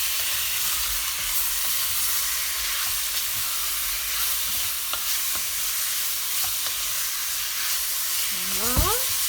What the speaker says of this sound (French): Alors là, on va retourner un peu la viande, les oignons et l'ail.